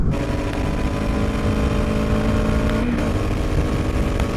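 A Triumph Speed Twin motorcycle on a fitted TEC aftermarket suspension rides along a road, its engine droning steadily under wind noise with a brief shift in pitch partway through, close and loud throughout.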